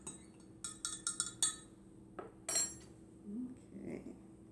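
A spoon clinks and taps rapidly against a bowl while stirring blue food coloring into a liquid mixture, a quick burst of close metallic clinks followed by a few softer knocks.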